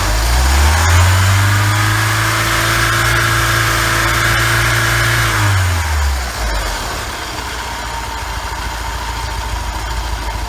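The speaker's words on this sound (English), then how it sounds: "I'll engage it and rev it up here." A Mercruiser 120hp boat engine with a freshly overhauled Rochester 2-jet carburetor and a leaking exhaust manifold revs loud and close, holding a steady high drone before dropping back to a rough idle partway through.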